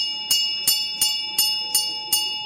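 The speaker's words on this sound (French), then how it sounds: "Une cloche sonne." A bell rings six times at an even pace, each bright metallic strike ringing on in a sustained tone, clear and alone as a sound effect in a roleplay show.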